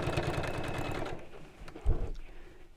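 A domestic sewing machine stitches around a quilted drawstring bag in a fast, even mechanical chatter for about a second, then stops, followed by a few soft handling thumps and rustles close by.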